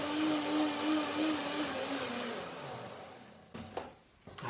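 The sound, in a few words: blender running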